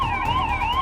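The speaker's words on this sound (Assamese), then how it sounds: "আৰক্ষীৰ বাহনৰ চাইৰেনৰ শব্দৰ সমানে সমানে" A police vehicle siren wails in a steady up-and-down sweep, loud and close, sounding alone without any voices.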